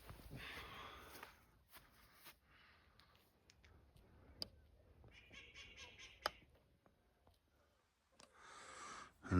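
Geese honk and gabble close by in scattered bursts, mixed with soft shuffling footsteps on the ground.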